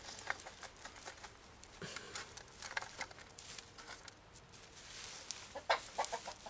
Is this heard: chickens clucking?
yes